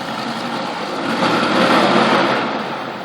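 A boat engine passing by, a steady high-pitched motor drone that swells to a peak midway and then eases off slightly, heard alone without talk.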